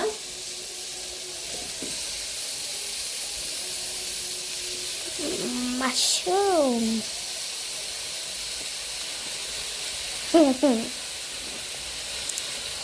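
Mushrooms for a Natti mushroom curry hit a hot pan and produce a steady, loud hissing sizzle that fills the whole stretch, broken by a couple of brief, higher-pitched sounds like a voice or a squeak.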